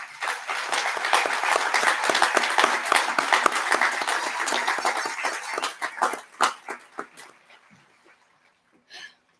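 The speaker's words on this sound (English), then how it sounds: "could we have a big round of applause for our MHS teachers?" A crowd at a high school graduation claps loudly and steadily, the applause thinning into scattered claps before fading, with a last brief burst of clapping at the end.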